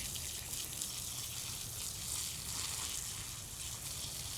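Water poured out steadily onto a garden bed after washing dahlia tubers, a continuous gushing, splashing wash that holds at an even level throughout with no voices.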